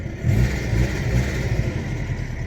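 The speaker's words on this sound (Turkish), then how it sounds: "Gaz vereyim bir." Tofaş car engine revving up in a parked car, a steady mid-pitched engine roar rising over the first half-second and holding loud and close for the rest of the clip, with no talk.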